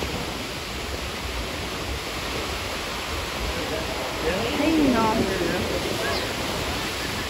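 Rough sea surf crashes on a Cancún beach, a constant broad roar with a louder wave breaking midway, while people talk and exclaim nearby.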